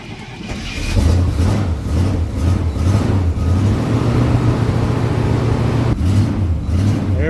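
Eight-cylinder engine, a snow-plow vehicle just fixed after a blown-out spark plug, idling loud and close with a steady rhythmic throb and slight rev variations, running alone for the whole stretch.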